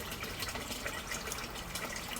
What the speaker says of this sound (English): the third gutter now is still flushing into the fourth gutter